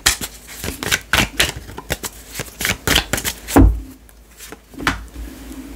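Tarot cards are shuffled close by, in quick bursts of riffling and flicking followed by a few soft taps and pauses, with no talking.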